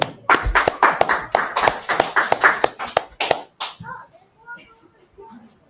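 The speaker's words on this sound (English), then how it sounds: "A round of applause." A short round of clapping from a small group at a religious memorial gathering, uneven individual claps for about three and a half seconds, then fading into quiet with faint murmuring voices.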